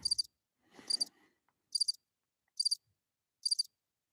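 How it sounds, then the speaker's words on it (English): Crickets chirp in short repeated bursts, five evenly spaced trills of rapid pulses standing out clearly against a quiet background, with a brief low rustle partway through. "Come on, crickets, play for me."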